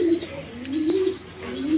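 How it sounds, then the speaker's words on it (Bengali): Rajgolla pigeons coo in low, rounded, repeated calls, close by and fairly steady, with a faint chirp or two mixed in and no talking over them. "আজকে অনেক রাজগোল্লা কবুতর আছে"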